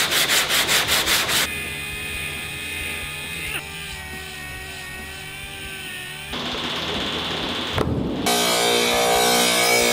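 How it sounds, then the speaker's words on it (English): A car's plastic bumper cover is sanded by hand, a continuous abrasive rubbing that shifts in texture and loudness in stages, fairly close and steady, with rhythmic strokes at the start. "Don't push too hard when sanding, because if you do, you can distort the panel"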